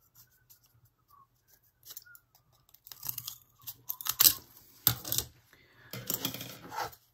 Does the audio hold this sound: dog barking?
no